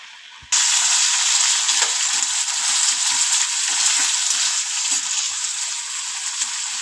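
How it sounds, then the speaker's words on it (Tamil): Cut brinjal dropped into hot oil with sautéed onion and curry leaves, bursting into a loud, sudden sizzle that stays strong and steady, with soft scraping stirs from a spatula underneath. "வெட்டி வச்ச கத்திரிக்காயை போட்டு நல்லா வதக்கிடுவோம்."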